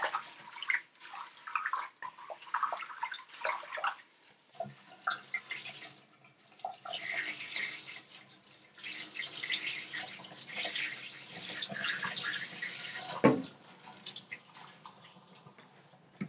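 Curly lettuce leaves swished around in a basin of water to wash them after harvest, soft irregular splashing and dripping with a sharper slosh near the end, close and quiet, no talk.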